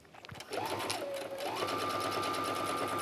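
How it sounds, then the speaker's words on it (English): A sewing machine stitches down a strap on a mesh tote bag, starting after a brief pause and then running steadily, with a slight shift in motor pitch partway through as the speed changes; close and clear with no talking. "I just like to stitch down one side of the strap and then sort of pivot across the bottom and sew up the other side."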